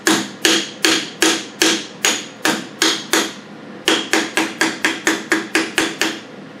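Sharp, evenly spaced hammer blows fitting a trailer dust cap, close and loud, in two rhythmic runs separated by a short pause, the second run slightly faster.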